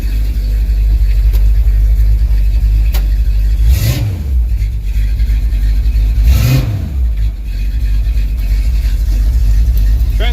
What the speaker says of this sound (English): I just love the exhaust on this thing.